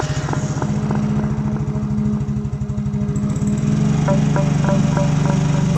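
Motorcycle engine chugging steadily in an animated horror cartoon, a fast regular putter heard close and fairly loud, shifting to a heavier, denser drone partway through.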